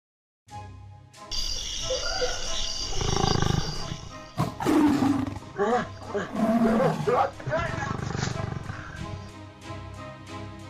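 Loud, close tiger roars and growls in repeated bursts, rough and throaty, with some background commotion under them.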